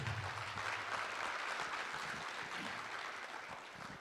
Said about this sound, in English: One more round of applause for those 3 young ladies.